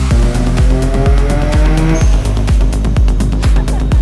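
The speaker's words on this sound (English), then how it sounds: "We're gonna start doing third gear pulls" A rebuilt Mazda RX-7 engine roaring under hard acceleration in third gear, with steady rhythmic pulses and a rising drone that climbs through the revs toward redline.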